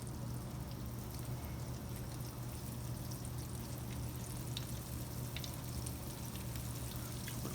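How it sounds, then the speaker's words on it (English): Grease is poured into a skillet for frying floured squirrel, making a steady soft pour and sizzle that runs without a break and without talk. "Just going to fill this skillet up."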